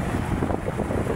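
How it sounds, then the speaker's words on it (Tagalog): Gusting wind ahead of a typhoon at Manila Bay buffets the microphone in a continuous loud roar, with a low, dense rumble and no voices. "Ito na siguro si bagyo, no? O hangin pa lang ang dumarating"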